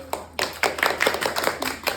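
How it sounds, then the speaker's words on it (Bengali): Students in a classroom clap together for a classmate, a burst of scattered, uneven handclaps that swells and continues through the clip, close and fairly loud. "সবার জন্য একটা হাততালি দে"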